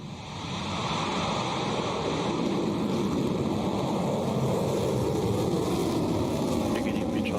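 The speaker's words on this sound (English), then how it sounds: "Liftoff." Rocket Lab rocket lifting off, a steady broadband roar that swells in the first second and holds loud and even, heard from a distance through a rumbling, wind-like wash.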